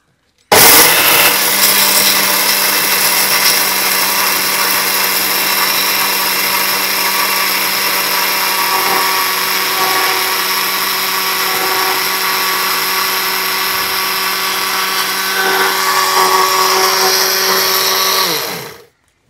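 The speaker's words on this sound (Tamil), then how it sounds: "இப்போ ஜவ்வரிசியும் ரவாவையும் அரைச்சிடுவோம்" A kitchen mixer grinder grinds sago and semolina together, giving a loud, steady, high-pitched whirring drone with a strong motor hum that runs unbroken for almost twenty seconds before cutting off.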